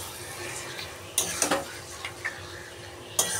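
Mutton curry being stirred in a pan over a high gas flame, with a few sharp scraping and clinking strokes of the utensil against the pan over a steady low background.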